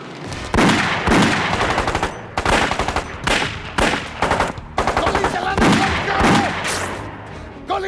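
Bursts of rapid automatic gunfire crack through a film shootout, several loud volleys separated by short gaps, with sporadic single shots between them.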